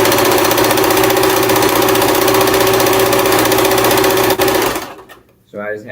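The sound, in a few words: sewing machine stitching a flag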